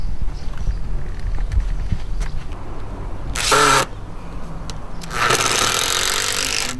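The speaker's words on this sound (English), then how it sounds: "it's then time to screw the running outlet to the fascia board through the holes" Screws are driven through a plastic gutter running outlet into a wooden fascia board, with two loud, short powered bursts, the second longer, over quieter outdoor handling noise.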